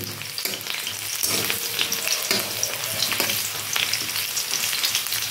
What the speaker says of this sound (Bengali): রসুনটাও 2 মিনিটের মতন একটু ভেজে নেব।